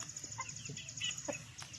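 Burmese rooster giving short, soft clucks and faint calls, a few scattered notes close by over low background noise, with no talking.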